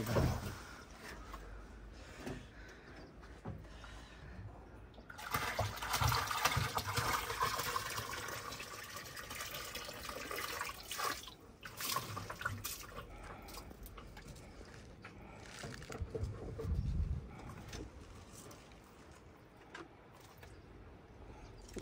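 Water splashes and gurgles steadily as it is poured out, swelling louder midway and continuing with running, trickling sounds outdoors.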